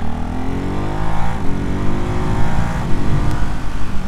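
A 2024 Ducati Hypermotard 698 Mono RVE single-cylinder motorcycle engine revs loud and close, with a throaty thumping drone that rises and swells steadily with no talking.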